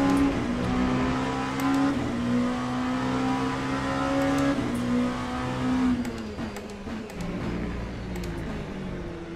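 A Ferrari race car engine in the Le Mans Ultimate racing game holds a steady, loud drone at high revs, with the pitch shifting and settling lower after about six seconds. No voices are heard.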